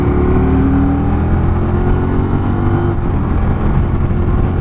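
A Can-Am Spyder ST SE5 three-wheeled motorcycle drones steadily on the road, its engine note rising as it downshifts and pulls ahead to pass, with heavy wind rush throughout and no talk.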